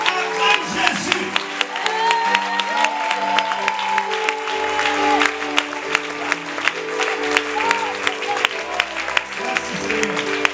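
A church congregation claps and cheers together at a worship service, with dense sustained applause and rhythmic hand claps filling the space, while voices and music run underneath.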